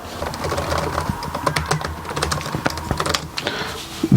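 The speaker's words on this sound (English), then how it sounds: "The keyboard is very lovely. It's very soft keys, very quiet." Soft, quiet keys on an HP ENVY 15 laptop (2020 edition) being typed on in a steady run of close, light clicks, with a louder bump at the end.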